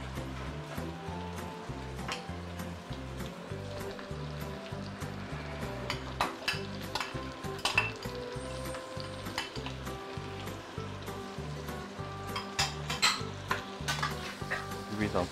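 Marrow melon stir-fried in a pan, a continuous close sizzle with steady rhythmic scraping and tapping of a spatula against the metal, plus scattered utensil clinks; no one speaks.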